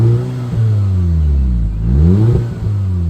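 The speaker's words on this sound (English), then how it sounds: "Getting on the gas, you can hear the turbo spool up" A 2012 Audi TTS turbocharged four-cylinder with stock exhaust accelerates, its engine note rising and falling through revs with a turbo whoosh spooling up, close and steady with no talk.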